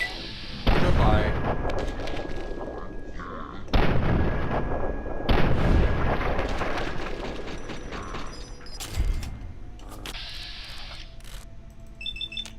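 Repeated loud gunshots with heavy booming reports from the Fallout video game, fired in spaced bursts over about twelve seconds, with mechanical clicks and reloading sounds between volleys.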